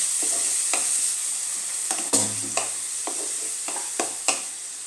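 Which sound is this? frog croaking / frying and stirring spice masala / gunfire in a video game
frying and stirring spice masala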